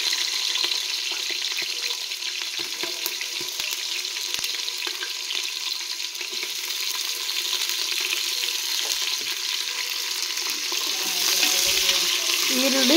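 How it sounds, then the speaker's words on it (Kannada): Sliced onions fry in a pan for chicken biryani, giving a steady, close sizzle that holds for the whole stretch, with faint stirring scrapes toward the end and no voices. "ಈರುಳ್ಳಿ ಚೆನ್ನಾಗಿ ಫ್ರೈ ಆಗಬೇಕು. ಇದು ಗೋಲ್ಡನ್ ಬ್ರೌನ್ ಕಲರ್ ಬರಬೇಕು, ಅಲ್ಲಿವರೆಗೂ ಫ್ರೈ ಮಾಡ್ಕೊಬೇಕು."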